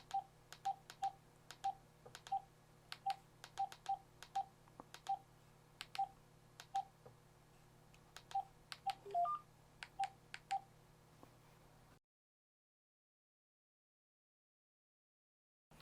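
Tone dialing on an AT&T BL102 cordless phone: a quick series of about twenty short, clean DTMF beeps in irregular bursts over a faint steady hum, then abrupt silence at the end.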